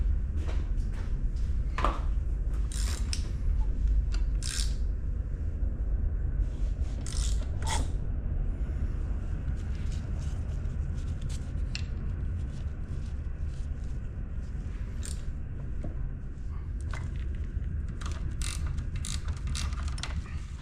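A ratchet torques bolts on a Tuono valve cover, with repeated close clicking and creaking mechanical ticks over a low steady background hum, no talk.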